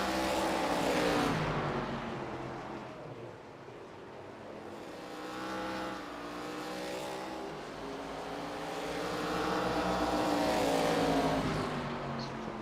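Race cars roar around North Wilkesboro Speedway in an iRacing ARCA league event, a steady layered engine drone from a tight pack of cars that swells and fades as they pass and rev.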